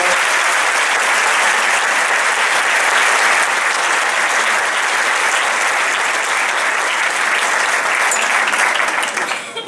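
Loud, sustained applause from a large audience at a May festival gathering in Santa Cruz de la Zarza, Spain, a thick wall of clapping that continues unbroken and tapers slightly at the very end.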